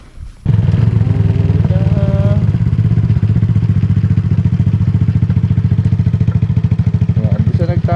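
A motorcycle ridden slowly on a road in Camarines Norte, its engine putting out a steady, loud, close low rumble that starts abruptly and holds for the rest of the stretch.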